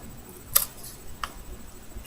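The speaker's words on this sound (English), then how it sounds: "I'm just going to take scissors, and you just cut around it" Scissors snip around a paper cutout for a Sailor Moon Princess Crescent mark: two or three crisp, isolated clicks close by, spaced well apart over quiet background hiss, with no talking.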